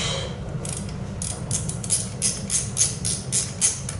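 Ratchet wrench clicking in quick, uneven bursts while loosening bolts on a Honda CT125 motorcycle during recall work, close and moderately quiet, with no talk.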